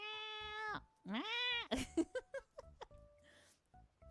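A person imitates a cat with a run of drawn-out meows, close and loud, with breaks of silence between them.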